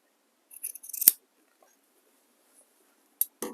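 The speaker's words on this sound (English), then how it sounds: "I've got to trim it just a hair more." Scissors trimming the fabric edge of a whole-cloth table runner: a few close, crisp snips in a quick cluster, quiet, then two more short cuts, with no talking.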